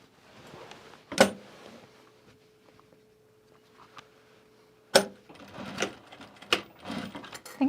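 A sewing machine stitches a duffle bag in short runs: a sharp start, a steady mechanical whir held for several seconds, then more bursts of stitching with clicks and handling noises, all fairly close and moderate in volume.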